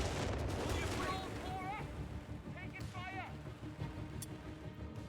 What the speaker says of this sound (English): That's firing artillery at one bridge, satchel charge at the other bridge.